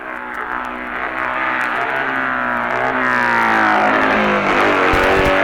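BMW racing sidecar engine at the Isle of Man TT, 1961, a loud crisp exhaust note rising in pitch as it accelerates and draws closer over several seconds.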